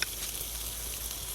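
Bacon and conch sizzle steadily in a hot pan as they are stirred, a soft, even frying hiss that runs close and continuous for a moment with no talk.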